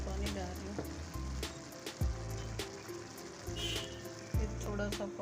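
Water mixed with a little food colour is poured into a pot of biryani, a wet splashing trickle with soft sizzling and occasional clinks from the pot.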